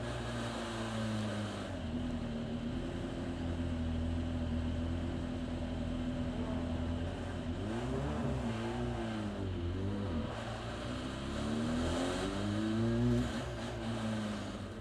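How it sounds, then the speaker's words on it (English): A DTM race car in Free Practice 2 at the Nürburgring slows into the pit lane at the speed limit, its engine a steady low drone with wavering pitch, a few bends in tone as it holds pace, with no talk. "Comes Marco Wittmann into the pit lane now"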